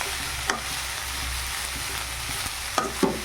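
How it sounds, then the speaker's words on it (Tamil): Bitter gourd frying in a pan with a steady sizzle, stirred from the bottom with a utensil that scrapes and clicks a few times near the end; no one speaks. "நல்லா அடியிலேருந்து பாவக்காய் உடையாத மாதிரி நல்லா கிளறி விட்டுக்கலாம்"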